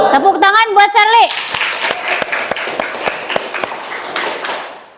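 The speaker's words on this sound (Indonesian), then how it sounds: "Tepuk tangan buat Sherly." A classroom applauds a student named Sherly with a burst of clapping that fades away, after a teacher's voice at the start.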